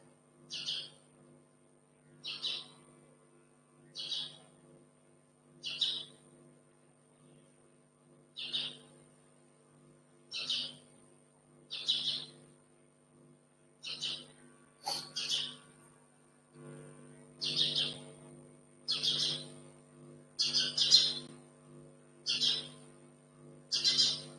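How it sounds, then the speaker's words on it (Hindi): A small bird trapped inside a room calls repeatedly, sharp high chirps spaced about every second or two, clear and fairly near against a quiet hum, growing a little louder toward the end. "हमारे कमरे में एक चिड़िया घुस गया।"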